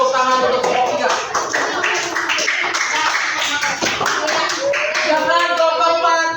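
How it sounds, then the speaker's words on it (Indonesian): Applause from a classroom of students for a group that has just finished a gymnastics demonstration of forward rolls, with steady dense clapping throughout and some voices mixed in. "Beri tepuk tangan untuk kelompok 3."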